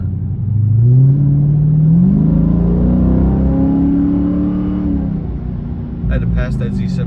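A car engine revs up and pulls hard while accelerating to pass a Chevrolet Tahoe Z71, a loud rising drone close inside the cabin that holds and then eases, with a voice talking near the end.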